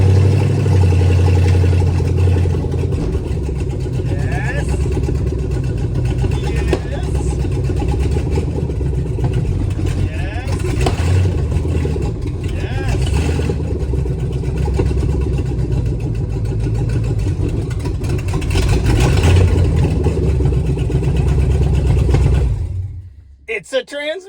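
A Dodge engine with a newly fitted transmission runs roughly and loudly, its fuel injection sounding angry, a continuous close rumble for over twenty seconds before it cuts off abruptly near the end.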